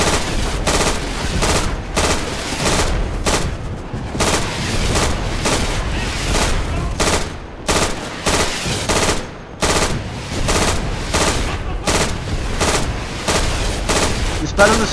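Suppressive gunfire rattles through a Day of Infamy match on the Dunkirk map: loud, rapid bursts of automatic fire with short gaps, some booming shots and distant explosions mixed in, and voices faintly underneath.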